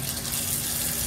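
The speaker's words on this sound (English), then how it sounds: "now we've got a leak in the faucet" Water pours steadily from a leaking faucet during a home inspection, a loud, close, unbroken rush with no talking.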